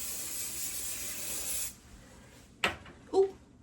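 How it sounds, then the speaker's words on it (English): A hair spray can sprays onto the top of a wig in one long hiss that cuts off, followed by two brief, sharper bursts. "just gonna spray some of this on the top too."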